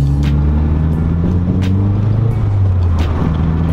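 A Mazdaspeed3 with a new rear motor mount drives along at moderate throttle, its engine a steady, loud, low drone from inside the cabin, with no talking.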